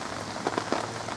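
Light rain patters on the surface beside a carp fishing peg, a soft continuous hiss broken by a few slightly louder drops, heard up close with no talking.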